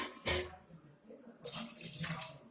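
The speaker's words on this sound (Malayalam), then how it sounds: "അതിൽ 1 ഗ്ലാസ് വെള്ളം ഒരു പാത്രം അടുപ്പിൽ വെച്ച് അതിൽ ഒഴിക്കണം" Water poured into a cooking pot on the stove for making rice flour dough, heard as two or three short splashing pours with quiet pauses between them, close and fairly clear, with no talk over it.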